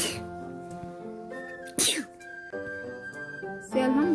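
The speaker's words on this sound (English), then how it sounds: "Pigs make me sneeze." A cartoon character lets out a single sharp sneeze, set off by pigs, over a steady background music bed.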